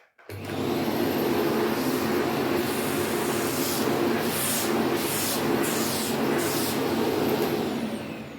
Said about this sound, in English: now let's start vacuuming this dirt away